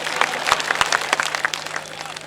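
Scattered crowd clapping at a political speech in Nagrota Bagwan, with uneven individual claps building briefly into a short patter of applause, moderately loud and brief.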